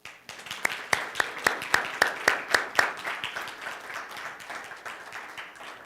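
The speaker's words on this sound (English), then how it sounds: "Can we have another round of applause for the choir?" A church congregation applauds the choir, with a few sharp, evenly spaced claps standing out near the front before the clapping thins into a softer, scattered patter.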